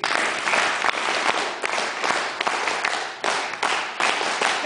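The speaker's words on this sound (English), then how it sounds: "when we start clapping, let's do this again 3 more times" An audience at a Cree humour event claps together in dense, sustained applause for several seconds, with a few brief dips between rounds.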